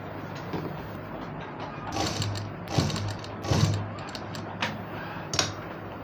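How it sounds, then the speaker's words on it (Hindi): A sewing machine stitching umbrella fabric, an irregular run of mechanical clicks and clacks with short whirring bursts, close and moderately loud, with no speech. "इस तरह लगा के हम ऐसे सीधी सिलाई एक लगाएंगे।"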